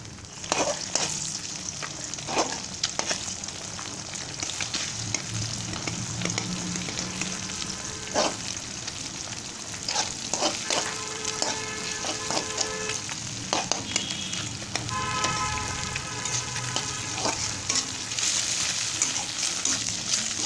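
Beaten egg with a little salt sizzles steadily in hot oil in a pan, a continuous close frying crackle with occasional stirring scrapes, no talk over it.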